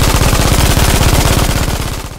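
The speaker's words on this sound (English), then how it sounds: "would be absolutely terrified by the mere sound of an MG-42" A German MG-42 machine gun fires one loud, continuous burst at an extremely rapid rate, the shots blurring into a harsh tearing roar for about two seconds before cutting off.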